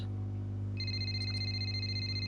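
Ringing phone in the F1 23 racing game, a steady electronic ring tone beginning partway through and continuing over a low constant hum, with no talk.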